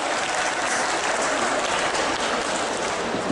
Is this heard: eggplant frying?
no